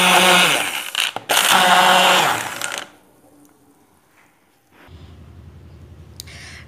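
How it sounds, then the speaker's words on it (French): A blender whirs loudly as it purées fresh strawberries for a strawberry dessert, running in two strong bursts with a brief break between them before cutting off. A lower motor hum follows near the end. "Maintenant, je vais les mixer."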